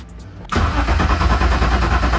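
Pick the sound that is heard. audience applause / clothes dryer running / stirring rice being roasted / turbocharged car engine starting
turbocharged car engine starting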